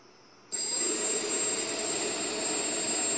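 A homemade hovercraft prototype's engine starts and then idles with a steady, loud whooshing roar topped by a thin high whine, continuous after a sudden onset with no talk.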